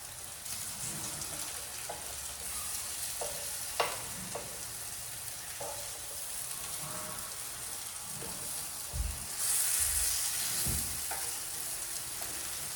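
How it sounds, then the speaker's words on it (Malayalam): Garlic sizzles in hot oil in a pan, a steady, fairly soft crackle broken by a few light clinks and scrapes of stirring. "അപ്പൊ നമ്മള് വെളുത്തുള്ളി ഒരു മിനിറ്റ് പാച്ചു, ഇത് മറിച്ചെടുത്തേ"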